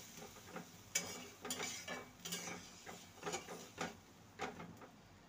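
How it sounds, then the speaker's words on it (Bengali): Boiled vegetables are stirred in a pan for a light fish curry, quiet irregular clinks and scrapes of a spoon against metal over a faint sizzle. "যেটা সেদ্ধ করে রেখেছিলাম সেটা দিয়ে দেবো। ভালো করে নেড়ে নেব।"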